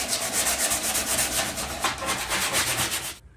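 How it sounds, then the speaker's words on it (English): Steady, rasping scrub of 80 grit sandpaper worked along the rough wooden edges of a homemade carpetball table, rhythmic strokes close up and loud, stopping abruptly at the end. "I'm using 80 grit sandpaper to smooth out the rough edges all the way around"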